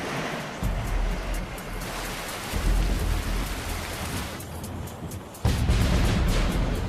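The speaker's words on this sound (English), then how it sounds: "That sounds a bit heavy, that stuff, like hail." Heavy rain in the Australian outback drums hard and steadily on a surface, a dense hissing roar that surges louder partway through, like hail.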